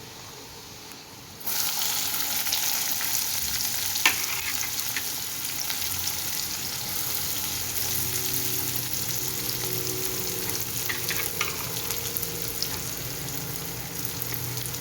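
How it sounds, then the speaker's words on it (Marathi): Chopped onion drops into hot oil with browned garlic, setting off a sudden, steady sizzle in the pan that keeps going at a moderate level with occasional faint stirring scrapes. "आपला लसूण लाल झालेला आहे आता आपण यात कांदा घालूयात"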